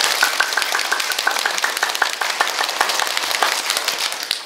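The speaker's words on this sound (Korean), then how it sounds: "여러분 한번 자기가 제일 빨리 할 수 있는 박수를 해보세요" A church congregation at a revival service claps as fast as it can, making a dense, steady roar of rapid overlapping claps that lasts the whole stretch with no pauses.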